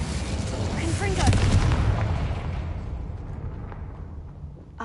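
An explosive Confringo spell goes off in Hogwarts Legacy, a single booming blast near the start that swells and then trails away into a fading rumble.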